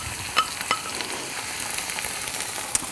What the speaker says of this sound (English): A tablespoon of butter or margarine in the pan, and then you chop a medium onion. It goes in here